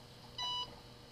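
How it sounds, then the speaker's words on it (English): A 1992 IBM PS/note laptop gives a single short electronic boot beep, clean and steady, lasting about a quarter second over a quiet background hum. "One beep for pleasure."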